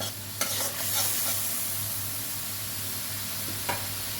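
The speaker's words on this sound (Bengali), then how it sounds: "একটু ভালো করে কষিয়ে নিতে হবে যাতে কাঁচা গন্ধটা না থাকে। দেখুন আমার তেল ছেড়ে দিয়েছে মশলা থেকে।" Spice paste frying in oil and being stirred for a homestyle thin rohu fish curry: a steady close sizzle with a low hum beneath and a couple of sharp spatula scrapes, no voices.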